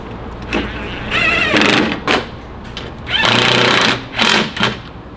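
A power tool drives bolts on a 2016-2019 Toyota Tacoma while a TRD Pro style headlight is secured, heard as several close, loud whirring bursts of a second or so with pauses between.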